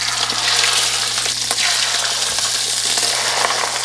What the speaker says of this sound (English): This pan is pretty hot. We're gonna do these skin side down,